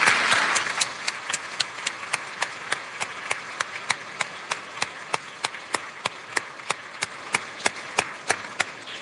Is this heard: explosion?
no